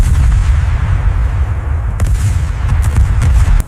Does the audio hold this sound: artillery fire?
yes